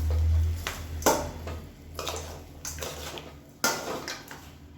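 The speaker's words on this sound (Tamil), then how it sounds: "இப்போ எல்லாத்தையும் நல்லா கிளறி விட்டுக்கலாம்" Lemon rice being stirred in a pan, a few distinct scraping and clinking strokes of a metal spoon against the pan at irregular intervals, close and fairly quiet, with a low hum beneath and no talk.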